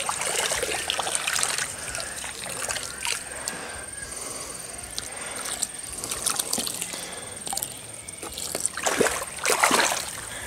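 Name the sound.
watering plants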